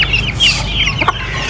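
A hen clucks in short, close clucks over steady background noise, with a few sharper calls near the end.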